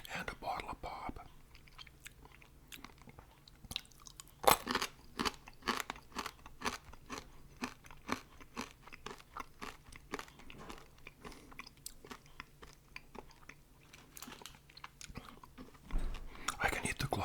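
Close, crisp crunching and chewing of a crunchy candy bar, repeating irregularly for a long stretch, with faint soft voice sounds here and there.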